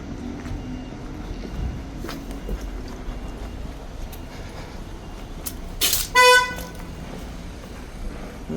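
A car horn tooting in a car park outside a police station, one brief burst followed by a few short toots at middle distance over faint outdoor ambience.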